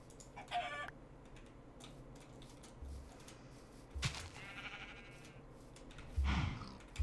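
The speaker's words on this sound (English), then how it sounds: "I hear you, chicken." A chicken clucks in a blocky video game world, with a few short clucks and squawks over a busy background of ambient game sounds. There is no talking.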